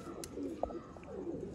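Pigeons gifted as a pair from a KPK breeder coo in soft, low, rolling bursts close by, with a faint murmur of voices in the background.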